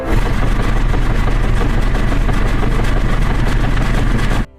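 A washing machine runs in a film scene, giving a loud, steady mechanical hum with a low engine-like drone that continues evenly throughout and stops abruptly at the end.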